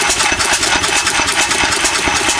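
A small engine runs loudly and continuously nearby, with a rapid, rough pulsing rhythm.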